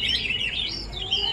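A fighter songbird, a macan pahit, sings in a continuous run of bright, warbling chirps that stays steady and fairly close throughout, with no talking over it.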